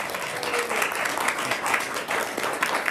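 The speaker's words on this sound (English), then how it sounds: "Can we give Tim a salute? Round of applause." Audience applause at a Rotary Club luncheon in a country club dining room, dense steady clapping from a room full of people lasting the full few seconds at an even level.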